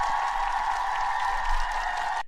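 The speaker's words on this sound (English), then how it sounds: "we have a lot of sound effects and we clap a lot" Clapping sound effect played during a live reaction stream, a steady, continuous burst of applause-like clapping lasting about two seconds at moderate volume, with no voices.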